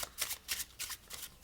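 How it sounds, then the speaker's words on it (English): A deck of playing cards being shuffled up close, with rapid riffling bursts in a quick repeating rhythm, fairly quiet and without talking. "After they're done shuffling the deck,"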